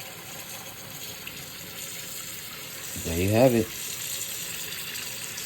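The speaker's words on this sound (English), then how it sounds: "put the ground beef in the strainer and run hot water over it until the grease is all the way out." Hot tap water runs over ground beef in a strainer, a steady hissing splash that continues throughout, with a short spoken phrase briefly rising over it midway.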